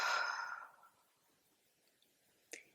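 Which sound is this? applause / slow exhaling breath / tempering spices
slow exhaling breath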